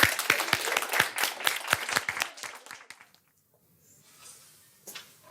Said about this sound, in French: je vous demande d'applaudir et d'encourager Junkie.